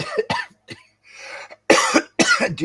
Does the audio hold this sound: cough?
yes